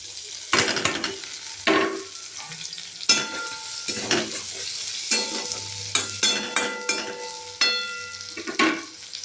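Bottle gourd peels and onion frying in a pan give off repeated spatula strokes, each bringing a burst of sizzle that fades back to a quieter crackle, in a steady rhythm close by.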